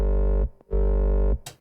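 Two loud hardcore kick drum hits shaped with distortion and EQ ring out as sustained, gritty, buzzing tones, followed by a brief noisy tail.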